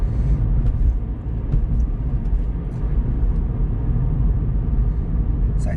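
Cabin view of a Suzuki Ignis on the move, with a steady low rumble of engine and road noise and faint occasional clicks, continuous throughout.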